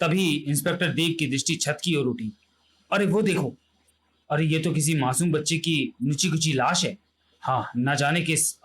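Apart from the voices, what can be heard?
No everyday noises stand out.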